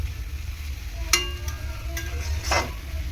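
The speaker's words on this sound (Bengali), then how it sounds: "আমি তো আমার মনের মতো করে এই থোড়টাকে ভাজলাম আলু চিংড়ি মাছ দিয়ে" Banana stem fries with potato and shrimp in a pan, giving a soft steady sizzle under low background rumble, broken by a few brief stirring scrapes.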